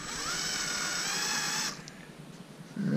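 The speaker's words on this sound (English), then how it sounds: "I'm actually going to use a 1-inch hole saw." A power drill fitted with a 1-inch hole saw cuts through a plastic panel on a Polaris RZR enclosure, a loud high whine for under two seconds that then stops, close by.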